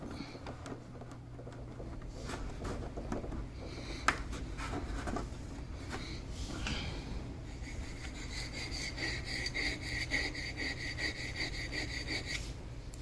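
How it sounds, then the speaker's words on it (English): Steel chisel scraping old adhesive from a poly flap on a Kona One windsurf board's daggerboard gasket: a quiet, continuous run of short rasping strokes, close by and alone. "I want to get my chisel right in between the adhesive and the poly flap"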